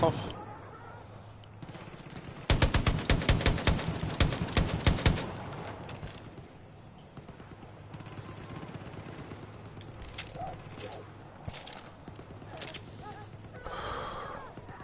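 Gunfire in Far Cry 5 crackles as a dense automatic burst of a few seconds, followed by scattered quieter shots and noises at moderate loudness.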